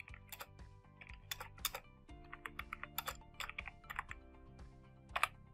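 Light typing on a computer keyboard while writing text in a web page, a steady run of soft, quick key clicks with short pauses, close and quiet.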